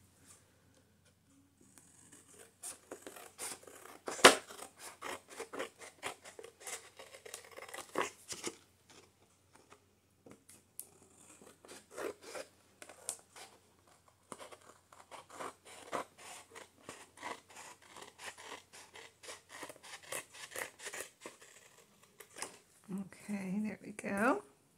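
Scissors snipping off excess paper lining a paperback book cover for an autumn junk journal, a run of soft crisp cuts and paper rustles, close and fairly quiet, scattered across the clip with brief pauses.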